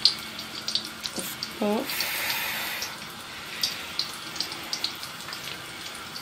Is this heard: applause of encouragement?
no